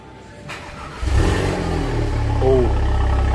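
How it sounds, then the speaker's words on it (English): An Audi TT engine cold-starts with a sudden burst of cranking and catching, then revs up loudly and settles into a rising, throaty drone, with a voice speaking over it. "Yeah, that does sound like a good cold start."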